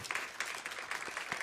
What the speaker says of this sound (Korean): 큰 박수를 좀 보내주시면 감사하겠습니다.